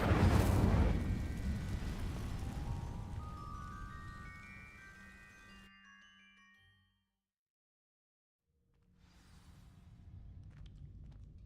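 In the Hogwarts Legacy video game, an Incendio fire spell ignites dry vines with a loud rumbling burst and roaring whoosh that fades with rising tonal whistles, then silence and a faint crackle returns.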